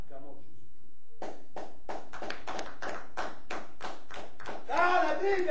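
A church congregation claps together in praise of Jesus, with steady, evenly spaced hand claps that begin after a short pause and continue about a second apart. Voices rise at the end.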